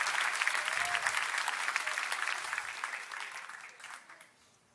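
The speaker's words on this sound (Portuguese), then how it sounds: "Vamos aplaudir a Jesus, queridos." Church congregation applauding for Jesus during a sermon, a dense wash of many hands clapping that holds steady, then thins and fades out over the last second.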